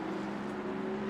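Lexus GT3 race car engine in the Assetto Corsa Competizione racing game at Kyalami, a steady loud droning note held at constant revs, with no talk.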